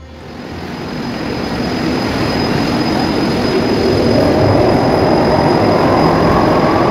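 A metro train rumbles at Kavi Subhash metro station in Kolkata, a steady loud roar that swells slightly over several seconds with a faint high whine on top, no voices.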